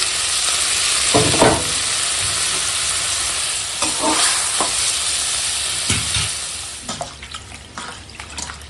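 Fried fish and okra dropped into a spiced curry with water, giving loud sizzling and bubbling with a few sharp splashes and stirring scrapes, and no voices.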